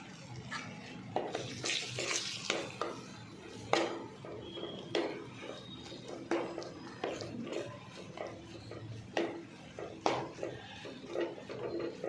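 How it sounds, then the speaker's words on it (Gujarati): Flour being stirred into ghee in a pan for sukhadi, with repeated scraping and clinking of a spoon against the pan in an irregular rhythm, close and moderately loud, with no speech. "આ રીતે સરસ આપણે ઘીમાં બધો જ લોટ મિક્સ કરી દેવાનો છે"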